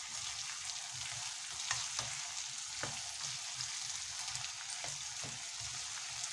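Chopped tomatoes and green chillies are stirred in a sizzling pan for palak aloo, a steady frying hiss punctuated by a few distinct scraping knocks of the spoon.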